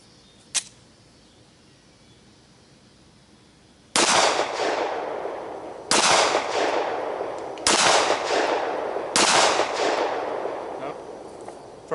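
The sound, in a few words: Glock 19 pistol firing 9mm FMJ ammunition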